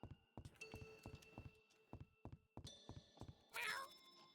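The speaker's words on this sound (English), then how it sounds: "Meow." Repeated short cat meows from the video game YIIK III, about ten evenly spaced calls over a few seconds, moderately loud and close, ending in a brighter, harsher burst of game sound.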